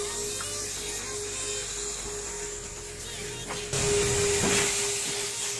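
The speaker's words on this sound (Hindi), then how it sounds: "यहाँ से वैक्यूम वगैरह स्टार्ट हो रहा है इसका, सारी क्लीनिंग वगैरह अंदर की ड्राइव डस्ट जो होती है वो सारी निकल जाएगी" Vacuum cleaner running inside a Hyundai Creta's cabin during a service-centre cleaning, a steady loud whine and hiss that grows louder and rougher partway through as the nozzle works closer.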